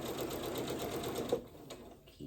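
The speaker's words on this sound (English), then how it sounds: "Keep sewing around." A sewing machine stitches steadily around a braided twist placemat, its fast even hum running close for over a second before easing off into quiet, with a brief bump of handling near the end.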